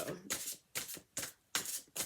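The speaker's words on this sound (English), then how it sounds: "Take two when done shuffling." Repeated shuffles of a large tarot deck come in four or five even bursts, close and crisp, with short gaps between them.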